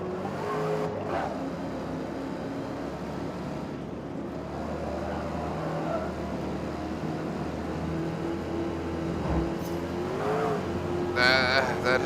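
Dodge Challenger racing in Forza Motorsport, its engine droning steadily at high revs through the whole stretch, with brief tire squeal and shifts in pitch near the end.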